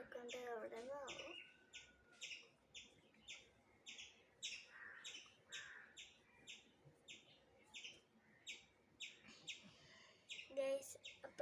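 Birds twitter outdoors in steady bursts of high, repeated chirps at moderate distance, with a faint voice at the start and a brief louder noise near the end.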